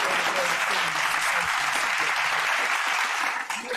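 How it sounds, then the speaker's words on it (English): Steady applause fills a livestream lounge, dense clapping from a small group holding at an even level for several seconds before easing slightly at the end. "So round of applause for them."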